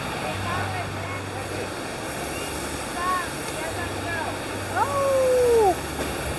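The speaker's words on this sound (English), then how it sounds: "This is the first waterfall." A steady broadband rush of falling water from the first waterfall on the Ho'opi'i Waterfall hike, heard close and continuous. A few thin bird-like chirps rise above it near the end.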